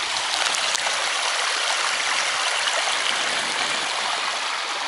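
The Monastyrskaya river in Crimea flows steadily with a dense, continuous rushing and gurgling wash, close and loud throughout with no voices.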